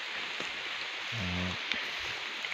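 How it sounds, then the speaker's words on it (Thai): Rain falls on a rubber plantation during tapping, a steady close hiss of drops on leaves and ground, with a brief low tonal hum rising out of the wash midway and no talk. "ฝน ตกมาพอดีนะครับ"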